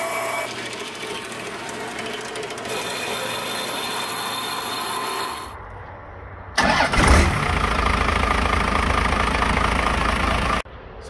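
A first-generation Cummins diesel truck engine fitted with a swapped HX35W turbo runs near and loud, a steady rough rumble with a brief dropout before it surges and keeps running.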